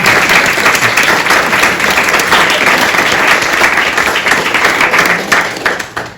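Loud, close applause from a small gathering honoring a gravestone carver who recut 1830s marble stones in slate, brisk clapping that runs steadily for several seconds before tapering off at the close.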